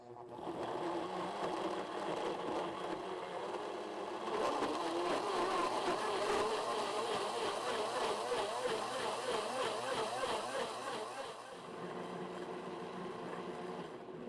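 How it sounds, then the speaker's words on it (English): A blender whirs continuously while blending a pear Bellini drink, starting slow, rising to a louder, rougher grind in the middle before easing back to a steadier hum. "Then we're going to put our blender top on. We're going to power it up, and we're going to start out slow."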